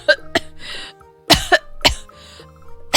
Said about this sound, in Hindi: वह बहुत ज्यादा खांसने लगती है।